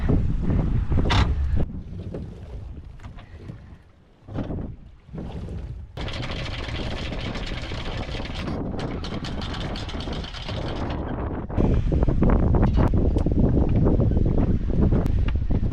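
Steady wind roars across the microphone aboard a sailboat at sea in roughly 10 to 15 knot breeze, with gusty buffeting swelling and dropping throughout and rustling water and rigging noise underneath.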